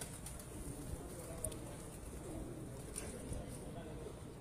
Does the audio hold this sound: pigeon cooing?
yes